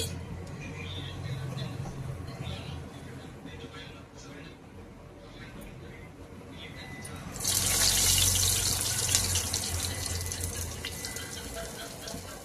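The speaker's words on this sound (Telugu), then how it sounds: "గారెలు వేస్తున్నాను చూడండి మినపప్పు గారెలు" Urad dal vadas (garelu) are slipped into hot oil partway through, and a loud, bright sizzle bursts up and keeps bubbling steadily to the end, over a faint kitchen background with a voice.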